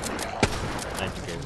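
A single sharp gunshot rings out in the Resident Evil Resistance video game, one brief loud crack over a murmuring game background.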